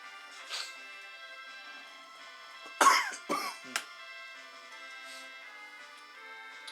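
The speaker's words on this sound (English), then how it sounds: "Sorry for coughing on camera," A person coughs during a Final Fantasy II game session: a few sharp, close bursts in quick succession, with a quiet tonal background running underneath.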